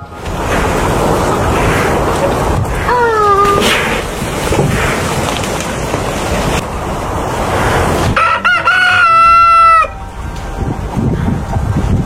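A rooster crows twice over steady outdoor background noise, the second crow loud and drawn out.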